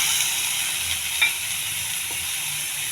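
Soaked green gram being stirred in a frying pan with urad dal, cumin and onion, a steady soft sizzle with faint scraping strokes, close by and with no one talking.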